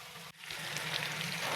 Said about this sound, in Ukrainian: поки смажиться цибуля чесник, я не накриваю